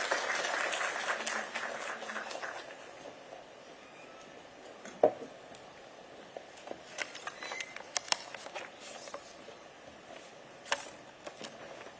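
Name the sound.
audience applause welcoming the governor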